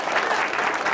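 A crowd claps steadily and densely, a continuous burst of applause with no pauses.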